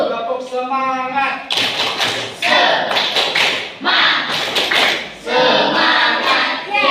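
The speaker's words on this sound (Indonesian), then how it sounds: "Tepuk semangat" Schoolchildren in an Indonesian classroom perform a rhythmic spirit clapping chant led by their teacher. Bursts of loud group claps and thumps fall in a patterned beat, mixed with the children's chanting voices, after a short spoken lead-in.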